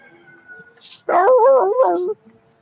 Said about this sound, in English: Dog's yapping.